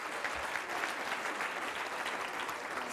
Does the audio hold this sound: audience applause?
yes